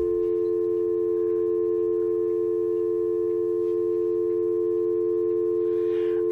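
Steady continuous tone from a digital landline phone plugged into a home router, a sustained hum with a faint harmonic, even and unbroken throughout, with no talk.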